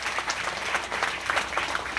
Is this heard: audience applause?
yes